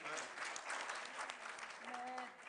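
An audience at an international Punjabi conference claps in a dense, continuous burst that lasts a couple of seconds, with a few voices mixed in.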